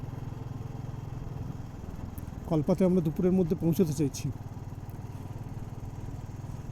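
A motorcycle ridden along the Hindustan–Tibet Highway in the Himalayas gives off a low, steady engine drone throughout, and someone talks briefly over it midway.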